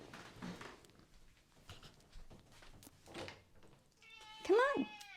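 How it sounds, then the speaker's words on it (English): A person speaks quietly for a few seconds, then a cat wanting to come in lets out a clear, loud meow close by. "the cat wants to come in again"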